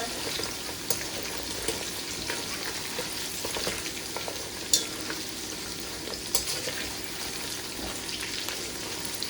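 Ofada stew ingredients fry in a pan with a steady, dense sizzle and crackle throughout, punctuated by occasional sharper pops and light stirring scrapes, close and continuous with no talking.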